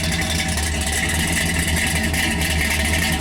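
A 12-second Ford drag race car idles with a dense, rough, loping engine drone, loud and close, over the full few seconds with no talking.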